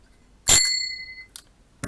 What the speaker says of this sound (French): Alors là, il y a la sonnette